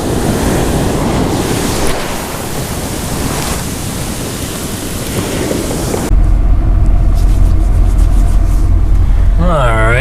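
Ocean waves break on a busy beach with strong current, a loud, continuous rush of surf mixed with wind buffeting, the texture shifting partway through to a heavier, closer roar.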